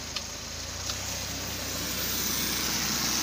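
A Suzuki Multicab transformer engine, one troubled by hard starting and fouled spark plugs, idles with a smooth, steady low hum, unbroken and without talk.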